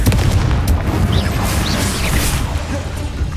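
Confringo fire spell blast in the Hogwarts Legacy video game, a loud booming burst with crackling spell effects that decay into a rumbling tail.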